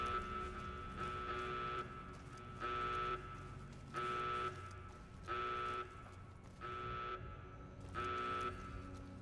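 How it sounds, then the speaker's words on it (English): An alarm system in the game Fallout New Vegas buzzes in steady repeating pulses, about seven harsh tonal bursts evenly spaced over several seconds with a lower drone between them and no talking. "Very annoying, this alarm system."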